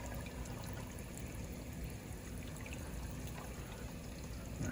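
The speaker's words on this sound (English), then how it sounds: "Pour not all of it, just pour some." Water pours steadily from a container into a bowl of sugar to make bee food, a continuous trickling stream at close range with no talking.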